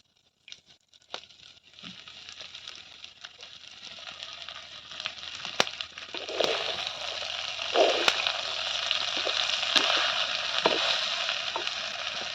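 Chopped agathi flowers with onions, chilli and curry leaves frying in a clay pot, with a steady sizzle rising after a quiet start, and scattered stirring scrapes and crackles close by.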